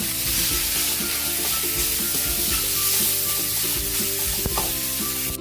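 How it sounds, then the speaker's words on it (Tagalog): Ground pork frying with tomatoes in a pan gives a steady, dense sizzle that holds evenly throughout, with the scrape of stirring and no talking. "Pwede na rin natin ilagay yung ating pork giniling."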